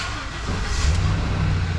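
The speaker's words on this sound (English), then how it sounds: "Begin engine starting." A Ford E250 van engine catches and settles into a steady low idle rumble, loudness rising about halfway through the short span, with no talking.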